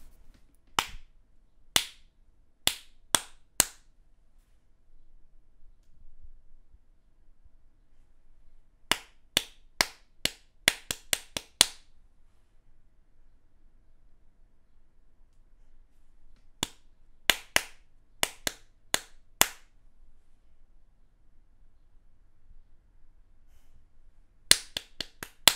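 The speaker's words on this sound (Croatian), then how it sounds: "Poslušaj kako plješćem i ponovi za mnom." Hand claps struck in short rhythmic groups of about four to nine beats, separated by long silent gaps, crisp and close with nothing else audible.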